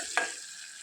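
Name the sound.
tomato pieces frying in tempering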